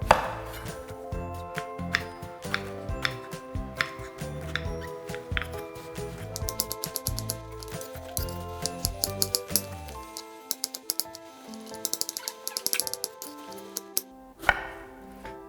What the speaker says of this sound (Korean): 가지를 썰어줬고요